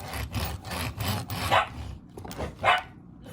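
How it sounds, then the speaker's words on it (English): Dogs barking in the background of a room, several short muffled barks mixed with rubbing and handling noise, fairly close and moderately loud. "Sorry guys if you hear my dogs in the background."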